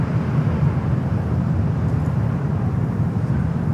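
Steady broadband roar of an airliner rolling on the runway at Miami airport, a continuous deep rumble held at constant loudness throughout, with no voices.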